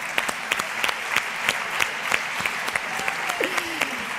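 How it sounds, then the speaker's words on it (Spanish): Audience applause for Ibercaja at an Agatha Ruiz de la Prada fashion event, a steady crowd of clapping with sharp individual claps standing out, fairly close and loud, and a faint voice sliding briefly near the end. "Aplauso a Ibercaja."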